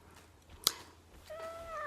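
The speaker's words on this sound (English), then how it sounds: "And Tony the Whistler Cat says so too." A single short cat meow, fairly close and sharp, rising out of a quiet room before a faint tonal whistle-like sound follows.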